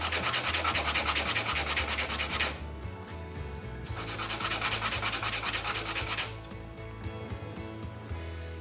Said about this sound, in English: remember, it goes fast with 80 grit sandpaper